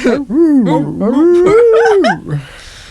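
A person's voice imitates a dog, giving a loud, close, sliding howl that rises and falls with whimpering yips and ends with a short breathy tail.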